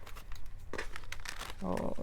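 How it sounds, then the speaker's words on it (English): A deck of tarot cards being shuffled, with papery crinkling and riffling rustles in short bursts, steady and close, and a louder flurry near the end. "This deck is having trouble shuffling."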